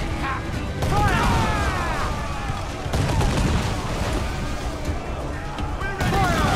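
A pirate ship's cannons fire in Assassin's Creed Black Flag: three loud, booming volleys about a second, three seconds and six seconds in, each trailing into crackling battle noise, with shouted voices mixed in.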